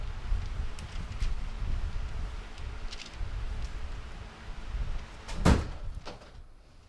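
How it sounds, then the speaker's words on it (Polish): Strong wind gusts through an open window indoors as a low, rumbling rush, with a sharp knock near the end like a window or door banging shut, and no voices. "coś strasznie wieje."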